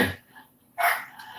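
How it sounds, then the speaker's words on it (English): Dogs barking close by, with two sharp loud barks separated by a short quiet gap, heard alone without talk. "Hear the dogs barking?"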